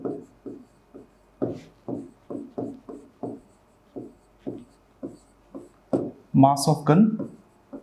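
Marker or chalk strokes on a board during a physics lesson: a steady series of short scratchy writing sounds, about two per second, while a teacher talks over them.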